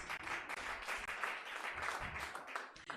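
A comedy theater crowd at Villain Theater applauds with a sustained wash of clapping, quiet and distant, continuing without a break for a few seconds.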